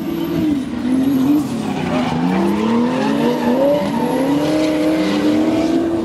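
BMW drift cars skid through a drift run at the 13th national BMW gathering in 2014, with loud, sustained tire squeal wavering in pitch over a roaring engine, close and continuous throughout.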